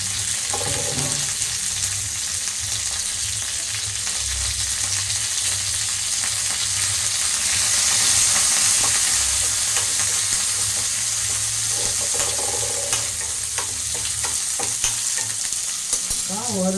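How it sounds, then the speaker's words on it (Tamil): Garlic and curry leaves sautéing in hot oil for an onion chutney, a steady, continuous close sizzle with occasional stirring scrapes and no talking. "ஒரு கட்டி பூண்டும் கருவேப்பிலையும் போட்டுக்கோங்க. கொஞ்சம் எண்ணெய் ஊற்றி வதக்கிக்கலாம்."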